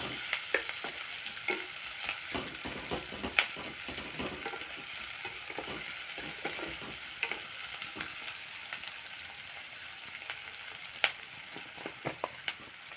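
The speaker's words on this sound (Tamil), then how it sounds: "நல்லா வெங்காயம் நல்லா ப்ரௌன் கலரில் வர வரைக்கும் நம்ம வதக்கிக்கலாம்." Onions sautéing in a pan for murungakkai thokku, a steady broadband sizzle running throughout with frequent light scrapes and taps of a spoon stirring, close and moderately loud, with no voices.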